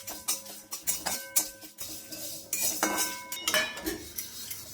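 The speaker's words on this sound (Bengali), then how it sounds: "মুচমুচে করে মশলাটাকে ভেজে নিতে হবে" Spices dry-roasting in a kadai, stirred with a metal spoon that scrapes and clinks against the pan in repeated close, sharp strokes.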